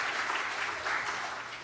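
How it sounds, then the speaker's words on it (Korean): A church congregation applauds during a Sunday Easter service, a steady dense wash of clapping from many hands filling the room without pause. "우리 모든 대원들 위해서 다시 한번 박수해 주시기 바랍니다"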